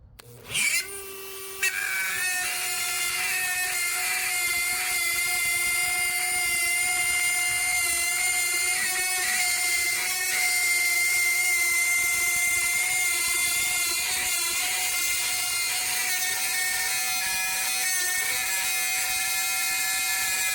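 A Dremel rotary tool cuts steadily through a wooden ring with a continuous high-pitched whine that holds nearly unbroken from the moment it spins up.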